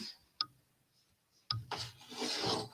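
A couple of sharp taps, then a dry, raspy rubbing against a hard surface that grows louder and steadier toward the end.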